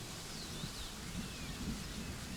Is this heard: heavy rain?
yes